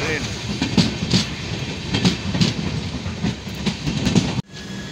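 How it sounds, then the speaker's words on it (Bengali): A train passes through Gangarampur railway station with a steady, rhythmic clickety-clack of wheels over the rails, loud and close, before the sound cuts off abruptly near the end. "ট্রেনটি যাবে কলকাতা। কাল সকালে পৌঁছাবে এই ট্রেন।"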